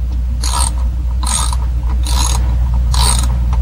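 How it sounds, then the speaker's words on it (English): A hand ratchet clicks while turning a socket on a GM ignition lock, in four evenly spaced bursts of rapid, close metallic ratcheting over a steady low hum. "Then use a ratchet."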